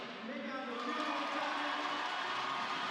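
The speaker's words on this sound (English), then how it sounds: "the crowd happy with that Philbert save" Arena crowd at a women's university hockey national championship quarter-final roaring steadily after a goaltender's save, a broad sustained wash of cheering throughout.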